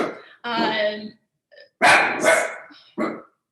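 An agitated pet dog barks indoors near an open window, giving several loud, close barks and yelps in quick irregular bursts.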